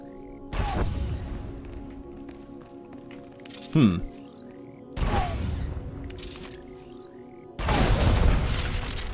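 Grenades explode in the video game Star Wars: The Old Republic, with several deep booming blasts spaced a few seconds apart. Each blast trails off into a rumble, and a sharp crackling hit sounds in between.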